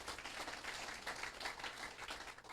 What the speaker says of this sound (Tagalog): Sige po, palakpak po tayo.